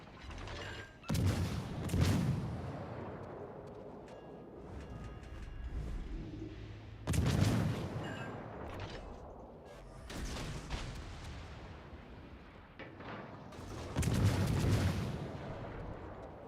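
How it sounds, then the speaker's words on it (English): Ship artillery salvos in World of Warships: Legends boom out in several heavy bursts spaced a few seconds apart, each followed by rumbling decay, with softer mechanical clatter between the shots. "All stations, concentrate fire on the target."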